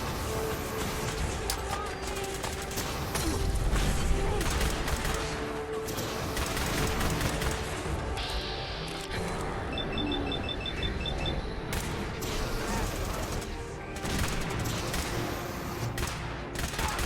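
Sustained gunfire in Fallout 4, dense rapid shots and bursts rattling almost continuously with booming impacts, while someone talks over parts of the firefight.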